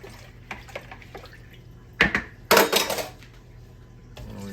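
Homemade chicken stock is poured into a pot in a kitchen, producing short splashing bursts and a watery gush after a few faint clinks, close and moderately loud with no talking.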